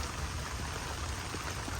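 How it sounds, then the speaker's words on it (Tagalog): Steady rain falls on a garden of container-grown okra plants, making a dense, even hiss with soft patters and no pauses, with no one speaking. "Ayan, nadali na ng ulan."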